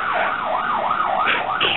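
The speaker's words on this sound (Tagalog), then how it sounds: "Ay, ambulansya ba?" An ambulance siren wails in a smooth rising-and-falling sweep, loud and close, repeating several cycles in under two seconds, with a brief voice-like tone near the end.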